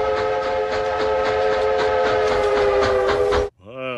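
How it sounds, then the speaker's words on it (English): Steam whistle of Frisco 1522 locomotive blowing a long, loud, steady chime tone with rich stacked harmonics for about three and a half seconds, then cutting off abruptly, followed by a brief sliding tonal sound. "steam engines have whistles that sound like this."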